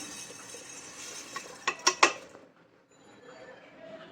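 A spoon stirs cooked rice and sugar in a pot, giving a short run of three or four bright metallic clinks and scrapes mid-clip, then only faint, quiet handling.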